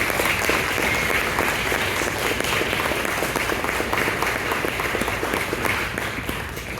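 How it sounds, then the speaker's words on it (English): A dense, sustained round of applause from an audience at a talk program, loud and even throughout, with many hands clapping together in a continuous roar. "So can we just all give them a round of applause and appreciate them sharing their stories."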